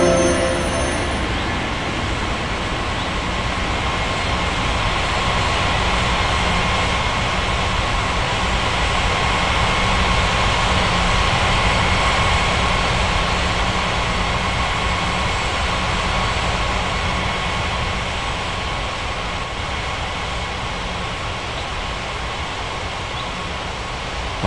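An airliner jet taking off from runway 27 at Ngurah Rai Bali International in an air traffic control game, a loud, continuous, steady engine roar with a whining tone that holds throughout and eases slightly near the end.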